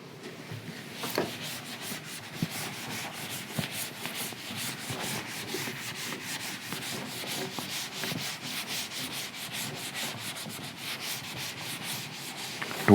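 A board being rubbed clean during a lecture, a steady close scratchy rubbing that continues for several seconds with small irregular bumps and no talk.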